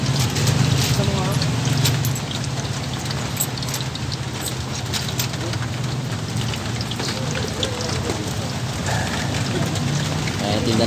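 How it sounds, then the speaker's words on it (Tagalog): Heavy rain pours steadily and loudly over a street food vendor's stall, a dense continuous hiss with occasional drops and distant traffic, while voices talk faintly underneath. "Malakas ang ulan, no?"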